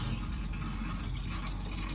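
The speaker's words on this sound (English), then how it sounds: "turn on the hot water." Hot water runs from a tap aboard a 1984 Chris-Craft Catalina 381 motor yacht, fed by a newly installed Raritan marine water heater: a steady, muffled rushing flow that holds unchanged and close by, with no talking.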